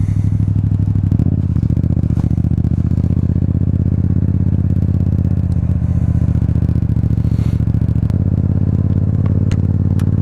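A motorcycle ridden in wet, slippery weather hums with a steady low engine drone, the pitch shifting slightly as it changes pace, with light clatter and road noise close by and no speech.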